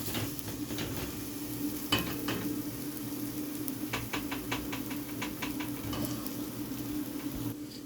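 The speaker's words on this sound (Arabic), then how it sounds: "اقلب بقى لحد ما البصلة تدبل خالص" Onion softening with dried coriander in a pan gives a low steady sizzle, broken by scattered scraping and clinking strokes of a utensil stirring against the metal, fairly quiet and close.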